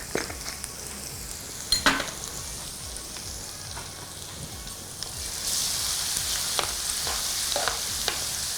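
Spices for tempering egg pickle, including asafoetida, sizzle and crackle in hot oil, a steady close frying hiss with occasional spoon taps, swelling louder partway through.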